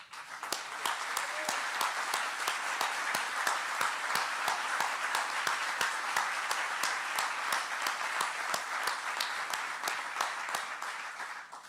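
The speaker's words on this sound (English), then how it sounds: "take a little bit of applause" A crowd at a governor's economic development announcement applauds steadily and loudly for several seconds, dense clapping throughout that fades slightly at the end.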